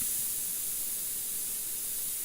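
Paint is sprayed freehand onto a painting with no masking, a steady, even hiss of spray that runs without a break, fairly close and with no voices.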